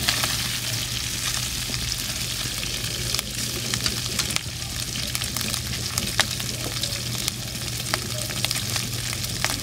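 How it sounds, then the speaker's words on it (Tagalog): Water spinach (kangkong) fries with beef in a hot pan, a steady loud sizzle with crackling pops and occasional stirring scrapes, constant throughout with no voices. "pwede natin ilagay yung kangkong"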